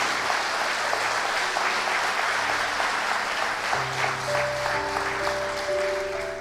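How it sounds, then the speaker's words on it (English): An audience applauds continuously and loudly at a motivational speaking event, a dense, steady wash of clapping with some sustained musical tones entering partway through. "Give them a round of applause, please"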